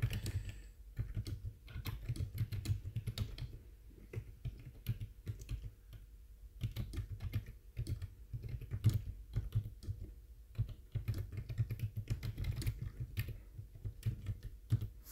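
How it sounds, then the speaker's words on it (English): A computer keyboard is typed on continuously at close range, a steady patter of quick key clicks with brief pauses, running alone without talk throughout. "I'm just going to type a message."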